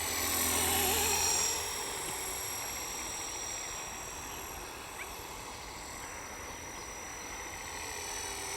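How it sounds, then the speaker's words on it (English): A small Blade 230S V2 radio-controlled helicopter's rotor and motor whine steadily with high buzzing tones, loudest at first and then holding a constant drone. "It's a fantastic little helicopter."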